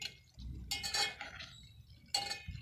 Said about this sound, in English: I'm going to stir it so that I can get a very perfect mixture.